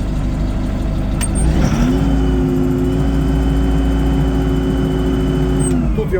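A Toyota 6-ton diesel forklift engine revs up steadily and holds high revs while the mast lifts a load, a loud continuous drone that rises early on and eases at the end.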